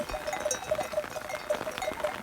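A sheep bleats faintly at a distance against a soft, steady patter of rain on a flock of sheep, with a few other faint animal sounds.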